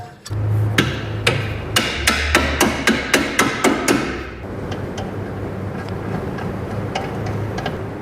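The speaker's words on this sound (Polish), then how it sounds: "bez młota to nie robota, trzeba przywalić" A hammer strikes metal roughly ten times in a quick, uneven series of sharp clanks, followed by quieter background noise with a few faint knocks.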